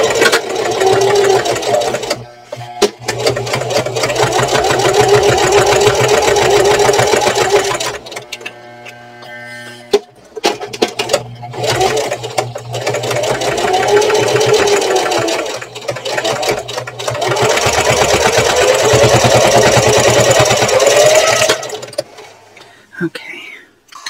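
A sewing machine top stitches around a purse, running in long steady bursts of rapid mechanical chatter with short pauses between, loud and close, while a voice talks softly in the gaps.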